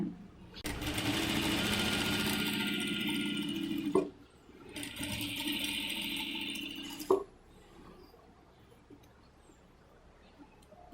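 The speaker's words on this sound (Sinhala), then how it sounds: "මේක දිගේ මේ විදිහට වාටියක් මහනවා" A sewing machine stitching a hem along a curtain runs in two sustained whirring bursts of a few seconds each, loud and close, each ending with a sharp clack and followed by near silence.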